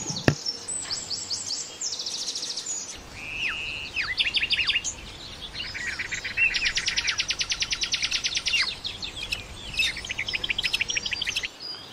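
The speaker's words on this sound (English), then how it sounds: "The songs of the birds will forever be a reminder of the wonder and majesty of the natural world." Several wild birds sing in a natural setting, layering bright chirps, rapid trills and buzzy repeated notes that overlap continuously throughout, fairly close and clear with no voices.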